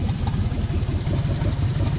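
A 6.0 LS V8 in a Silverado, left standing for 12 years, idles roughly with its exhaust torn off at the manifold, giving a loud, steady, uneven low rumble with a lumpy pulse throughout.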